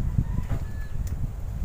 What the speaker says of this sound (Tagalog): punta ko muna yung manok dito